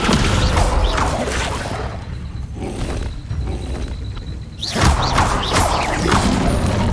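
A Descendo spell in Hogwarts Legacy slams a floating object down, landing as a sudden heavy thud and crash near the end, amid continuous whooshing magical effects and busy game ambience.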